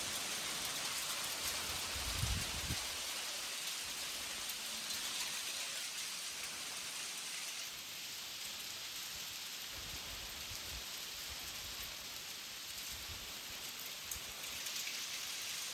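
Hail comes down suddenly under a sunny sky, a dense steady patter and hiss of pellets striking outdoor surfaces, with a few heavier low thumps.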